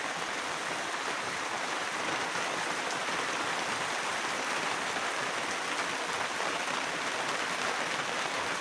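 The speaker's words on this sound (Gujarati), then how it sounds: "આ તો વરસાદ છે" Steady rain patters on a surface, a constant moderate hiss of drops with no voices.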